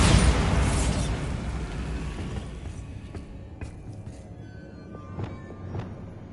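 The Bombarda spell explosion in the fantasy game Hogwarts Legacy opens with a loud blast and a rumble that fades over a few seconds, then faint debris clicks and small pops follow.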